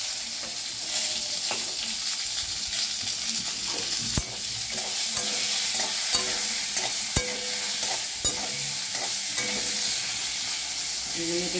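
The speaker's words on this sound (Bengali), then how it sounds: "এগুলোকে একটু হালকা ভাজা ভাজা করে নেবো" Eggplant pieces fry in oil for a hilsa fish curry, with a constant bright sizzle and the scrape and clack of a spatula stirring in the pan at irregular intervals, close up.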